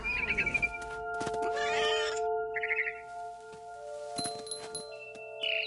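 A cat meows several times in short bursts in the video game What Remains of Edith Finch, with steady electronic tones humming in the background and a few clinking sounds.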